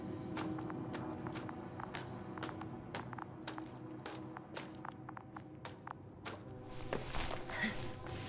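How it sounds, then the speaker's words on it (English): Footsteps in The Invincible game crunch at a steady walking rhythm, close and distinct, one sharp step after another, ending in a brighter burst of noise near the end. "His footsteps"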